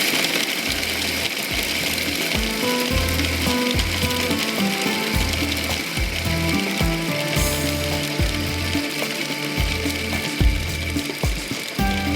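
An electric chopper grinds kofta mixture finely, giving a loud, steady mechanical whirr with a ratcheting, gear-like churn that runs without a break for the whole stretch. No one speaks.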